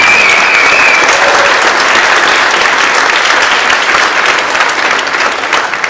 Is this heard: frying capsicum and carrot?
no